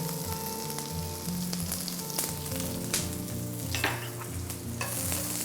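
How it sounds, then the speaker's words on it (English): Onions caramelizing in a greased pan for an Aussie burger, a steady, close sizzle with clinks and stirring scrapes running throughout, no voices. "I'm going to caramelize these till they are golden brown in color"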